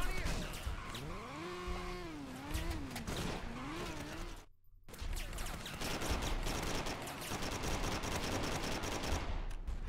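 Rapid gunfire while killing enemies in the video game Driver: Parallel Lines, bursts of shots over engine and mechanical noise, broken by a brief near-silent gap midway.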